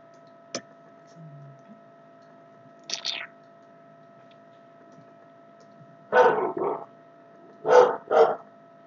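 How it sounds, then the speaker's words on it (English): Pet dogs barking in the background indoors, a few short clustered barks spread through the clip, fairly distant and separated by quiet gaps. "Excuse my dogs in the background."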